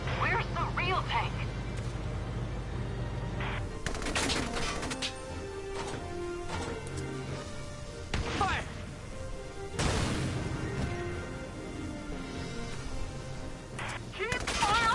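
Urban combat gunfire in Valkyria Chronicles 4 erupts in loud bursts and bangs, with rapid volleys, heavy impacts and crashes spread across the scene, mixed with shouted voices.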